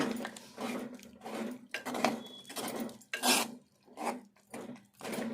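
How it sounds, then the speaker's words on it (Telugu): Boiled tomato, eggplant and green chillies being mashed and stirred in a clay pot, giving repeated rhythmic scraping, squishing strokes about every half second, close and moderately loud with no talking. "ఇది మనం కొంచెం మెత్తగా ఇట్లా కలుపుకోవాలి."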